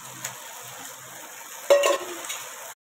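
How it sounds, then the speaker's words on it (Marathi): Onion, tomato, coconut and garlic roast in a little oil for Maharashtrian bazaar amti, a close, steady sizzle broken midway by a brief scrape of stirring before the frying settles again. "कांदा आणि टमाटर, खोबरं, लसूण मी भाजून घेते. थोडंसं तेल टाकून सगळं एकत्र."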